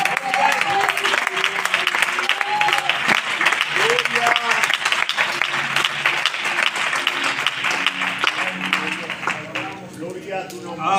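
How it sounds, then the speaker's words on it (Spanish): A church congregation claps and cheers together in a sustained burst of applause, dense and lively, with voices calling out over the clapping before it thins near the end. "Aplaudimos para el Señor."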